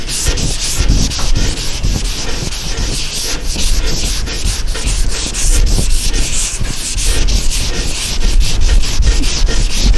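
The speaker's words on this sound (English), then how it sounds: "I'm sanding up to it but not over it." Close, loud sanding on a truck bed's metal body panel, a continuous rough scraping rub with steady back-and-forth strokes and no talking.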